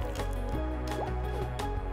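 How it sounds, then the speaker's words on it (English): Thick gold caramel pours over white clay balls in a dish, giving soft wet squishing and dripping sounds, quiet and close, with a few faint taps. "Pour gold caramel over it."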